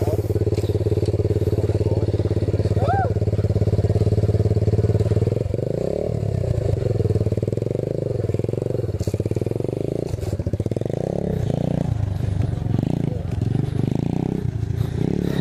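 Apollo 125cc dirt bike engine running nearby, a continuous buzzing idle that rises and falls with throttle blips and revving, accompanied by occasional clatter.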